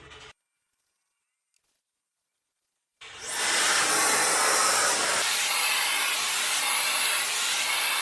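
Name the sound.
GKJ garment steamer releasing steam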